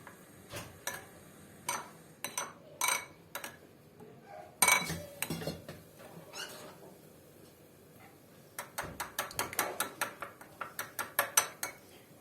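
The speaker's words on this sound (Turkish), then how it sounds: "Önce bunları bir güzel karıştırıyorum arkadaşlar." Lemon juice mixture whisked for mock trotter soup, a spoon or whisk ticking against a bowl in bursts of quick, close clinks, steadier and faster near the end.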